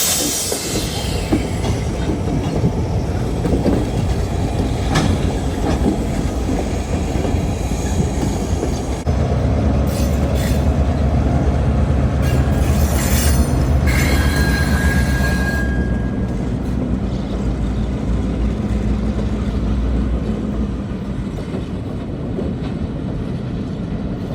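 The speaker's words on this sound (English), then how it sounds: "we rushed back to the station in time to see the locomotives pass" Heavy CN diesel locomotives rumble past on the mainline in Coteau, Quebec, a loud, continuous mechanical roar with occasional metallic squeals and clanks from the wheels.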